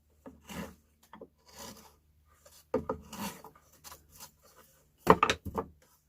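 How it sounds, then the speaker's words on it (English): Scraping to clean out the corners of a wood cross halving joint: short, separate rasping strokes in bursts with pauses between, close by, the last pair of strokes louder. "we then clean it out, scrape out the corners"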